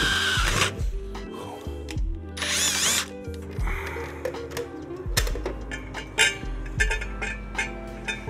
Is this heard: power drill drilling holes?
yes